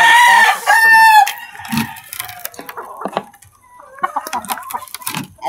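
A mother hen clucking, with a loud drawn-out crowing-like call at first, then scattered short clucks and rustling nearby on a farm.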